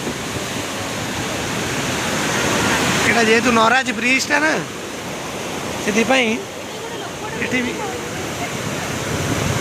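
Floodwater rushes through the Naraj barrage in the rainy season, a loud, steady roar filling the whole clip while someone talks over it in the middle.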